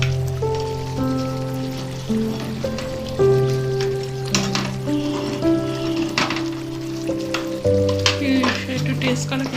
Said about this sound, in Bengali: মাছের সাথে ভালো করে মশলাটা মিশিয়ে নিল